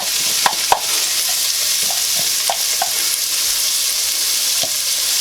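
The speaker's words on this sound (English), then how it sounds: "And then we're going to add 1 diced onion. We're going to saute this for a few minutes." Diced onion sautéing in hot oil for chili, a steady close sizzle with scattered stirring clicks and scrapes throughout, no talking.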